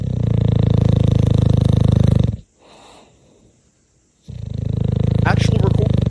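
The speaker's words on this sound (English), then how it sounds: "Actual record of my dog Bubba, and that's his picture, snoring" A dog named Bubba snoring, with two long, loud, rumbling breaths separated by a quiet pause, heard very close.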